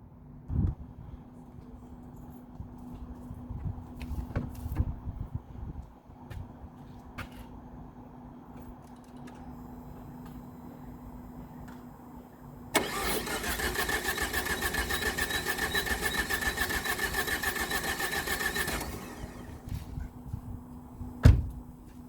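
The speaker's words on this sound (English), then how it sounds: "I'm going to crank the engine while you're watching" A Saab 9-3 TiD diesel engine with a P0340 fault code cranks for several seconds with a loud, steady grinding whir, then cuts off. Quieter knocks and clunks come before it.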